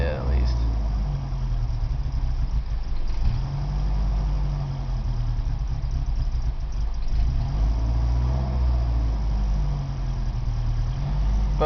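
A 1986 Isuzu Trooper II with the 4ZD1 engine struggling to hold an idle, a close, continuous low engine rumble that wavers slightly in pitch and never settles.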